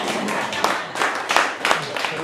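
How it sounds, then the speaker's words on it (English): Crowd clapping at a founders' event in an arena, a spread of scattered hand claps in uneven bursts, moderately loud, mixed with voices talking and cheering. "Can you clap for me?"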